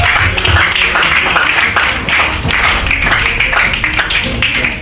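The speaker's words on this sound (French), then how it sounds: "applaudissez beaucoup le Seigneur" Church congregation clapping together in worship, dense continuous applause filling the room for several seconds.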